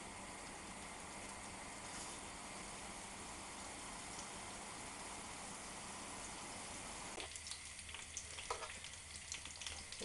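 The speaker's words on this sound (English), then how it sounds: "So I'm going to just pop these in the pan and we're going to brown them on all sides just for a few minutes" Turkey meatballs browning in a hot frying pan give a steady, close sizzle and crackle that runs throughout, growing sparser and quieter in the last few seconds.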